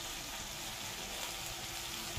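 A small piece of jaggery melts and fries in a pan for an okra and tamarind pulusu, giving a steady, close, even sizzling hiss with no pauses or voices.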